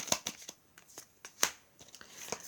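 Tarot cards are shuffled and drawn, giving a series of soft, irregular papery flicks and snaps close by, quiet between the strokes.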